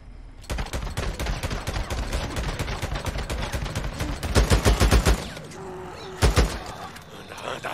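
Rapid automatic gunfire in the video game Days Gone, a long dense burst of loud shots followed by a couple of heavier bursts, with a player's voice briefly audible underneath.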